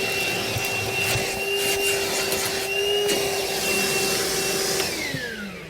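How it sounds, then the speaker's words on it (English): Vacuum cleaner drawing dirt and debris from the floor of a 2021 Toyota Tacoma: a steady, loud, close whine with a pitched motor tone, running alone without talk. "we're just going to grab our vacuum here real fast and get all the dirt and debris out of there"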